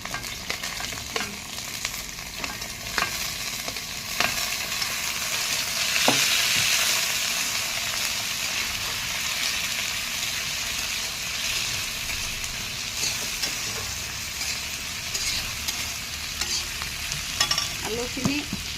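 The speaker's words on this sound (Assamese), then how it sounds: "লগতে আলুখিনি মই দি দিছোঁ" Potato pieces fry and get stirred among onions already browned red in a pan, a steady close sizzle broken by scraping stir strokes throughout, with no talk.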